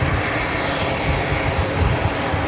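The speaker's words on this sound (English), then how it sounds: "Next takeoff on 13 right is Delta Airlines flight 2323 heading to Austin, Texas, 737-900ER." A Delta Airlines Boeing 737-900ER taking off from runway 13 right at JFK gives a loud, steady, broadband engine roar throughout, with no voices over it.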